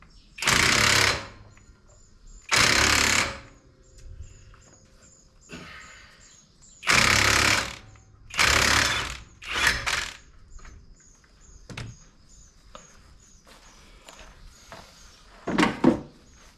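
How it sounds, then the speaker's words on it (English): Impact wrench spinning a bolt out on a Kawasaki Mule 4010 utility vehicle during drive belt work: several loud, short rattling bursts of about a second each, separated by pauses, with quieter clinks between them. "you're going to hit that with an impact and the socket that you need, and you're just going to whiz that dude out"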